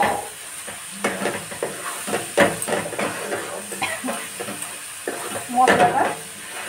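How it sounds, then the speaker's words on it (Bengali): Masala with Kashmiri chili powder and ground tomato sizzles in a pan for chicken kasha, while a spoon scrapes and stirs in uneven strokes; the frying hiss stays close and fairly loud, and a voice speaks now and then. "ভালো করে নেড়ে এটা আমি কষিয়ে নেব"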